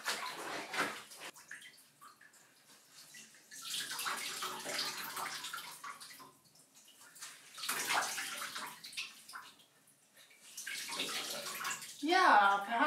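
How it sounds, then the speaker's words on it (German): Clothes washed by hand in water without running tap water, sloshing and splashing in bursts with quieter pauses between, close by, with a little talk near the end. "Ja, per Hand waschen ist anstrengend und dauert ewig."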